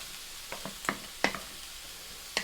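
Shiitake mushrooms in hot oil in a pan, given a few stirs and flips: quiet sizzle with several sharp scraping and clattering knocks spaced unevenly.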